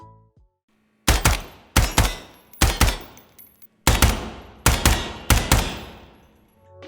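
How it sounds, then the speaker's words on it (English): Loud, sharp gunshots from the game Ground Branch ring out in spaced pairs and bursts, each with a booming echo trailing off, with no speech. "a remix to the actual gunshot sounds themselves, which makes them sound way more powerful"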